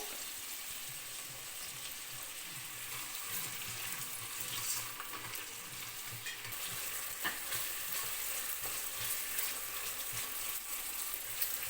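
Onions and slit green chillies fry in hot oil in a pan, giving a steady close sizzle broken by occasional stirring scrapes, with no talking.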